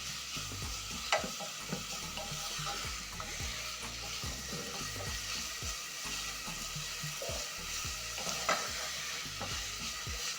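Shredded carrots and onion sauté in a pan with a constant sizzle, punctuated by repeated spoon scrapes and taps from frequent stirring, close and steady.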